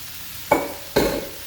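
Seasoned meat in a pan gives two short bursts of sizzling as it is stirred, each scrape followed by a brief crackling hiss, close and loud with no talking.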